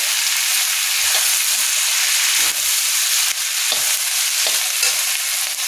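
Mixed vegetables stir-roasting in a pan on a high gas flame, a loud, dense continuous sizzle with occasional scraping knocks of the spoon against the pan, no speech.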